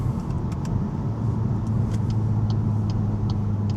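A modern car driving fast at about 85 mph on the road, heard from inside as a steady, loud low engine and road rumble with a continuous drone throughout.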